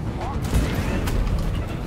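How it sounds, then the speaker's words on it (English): Explosions of the Driller's combustive goo in the Deep Rock Galactic video game: dense, rumbling booms and crackling blasts that roll on continuously, with talk over them. "Burn some of these things, see if we can get some more explosions going."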